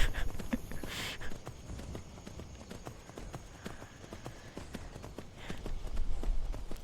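Horse hooves clip-clop in a steady walking rhythm on a hard surface in Skyrim, with a few louder thuds and faint background noise.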